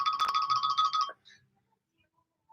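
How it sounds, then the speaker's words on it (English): A telephone rings for an incoming call during a live studio broadcast: one bright electronic trilling burst lasting about a second, then near silence. "We've got a phone call coming in this live on the studio."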